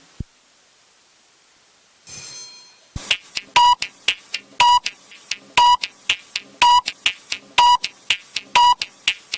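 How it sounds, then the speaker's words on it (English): A countdown timer at an inter-school science quiz competition beeps in a steady rhythm, with sharp electronic pulses about once a second. Each beep is clear and fairly loud, and a short burst of noise comes just before the beeps start. "The timer."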